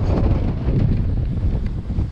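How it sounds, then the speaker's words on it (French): Strong wind buffets a sailboat passing islands between Ibiza and Formentera, a dense, roaring gust noise blasting steadily across the microphone with no voices. "comme il y a beaucoup de vent, je sais pas si on m'a entendu"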